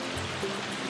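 Flowing water babbles steadily through a wooded Georgia state park, a soft continuous wash of small stream rapids with no voices.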